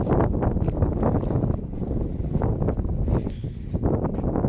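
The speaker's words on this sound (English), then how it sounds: "wind's blowing, sorry about that, guys" Strong gusting wind buffets the microphone outdoors beside a creek lined with riprap, a dense, loud roaring rumble throughout with no talk.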